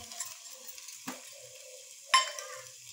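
A spoon stirs sugar into apple halwa in a pan, with quiet scraping and light clinks against the metal. A faint sizzle runs underneath and one sharper knock stands out near the end.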